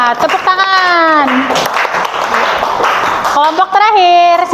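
A room full of people, many of them children, bursts into a few seconds of loud, steady clapping, with voices before and after.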